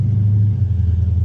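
A car engine rumbles steadily at low pitch, close and fairly loud, while someone tries to dig the stuck car out; the drone dips slightly midway and holds on without distinct revs.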